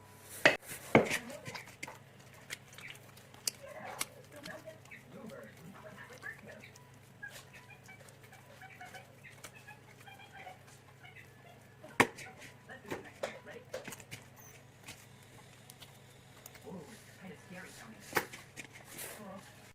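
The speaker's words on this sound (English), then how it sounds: "now I'm going to do is just add a bit more oil on top and knead it by hand for like 1 or 2 minutes" Poori dough kneaded by hand with oil, faint soft squishing and slapping pressed out in irregular bursts, with a few louder knocks and quiet talk in the background.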